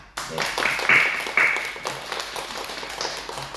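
A church congregation claps briefly during a Korean worship service, a short burst of applause that fades quickly while a voice speaks over it.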